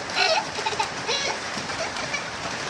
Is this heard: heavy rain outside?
yes